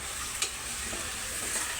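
Soft, steady sizzling and crackling of galunggong (round scad) fish frying in a pan, with faint occasional ticks, quiet and close.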